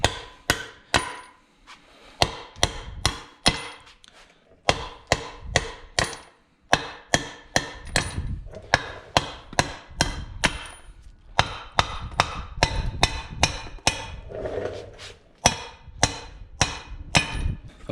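A big hammer pounds wheel studs out of a wheel hub from an OBS 7.3 truck, a long series of sharp, loud metallic blows in uneven clusters with short pauses between groups.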